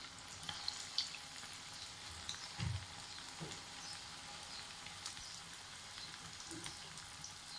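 Egg bonda frying in hot oil in a pan gives off a soft, steady sizzle with scattered small pops and one brief louder crackle, faint and continuous, with no voices.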